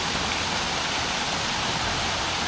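Waterfall on a walk through reeds, a steady, dense broadband rush of falling water that stays loud and even throughout, with no voices.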